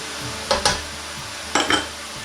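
Flour is stirred into a sizzling pan for a shepherd's pie, with a soft steady sizzle under two pairs of close scraping, clattering stirs, and no talking.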